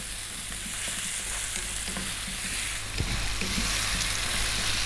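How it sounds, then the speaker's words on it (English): Mixed hard vegetables sizzle and fry steadily in a pan over lively heat for an Indian vegetable masala curry, with intermittent scraping and stirring clatter throughout and no voices. "4 minutes, again staying on this lively heat and stirring often."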